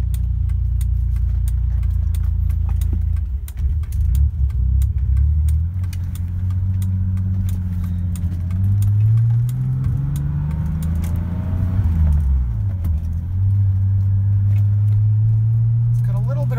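A 1988 BMW 635CSi engine runs with a slight cold stumble, a close low hum that rises and falls in pitch as it revs, with someone talking over it.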